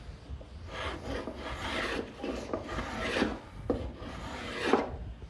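A hand plane rasps along a wooden edge, cutting a chamfer in a steady series of about five scraping strokes, close and moderately loud with no talking.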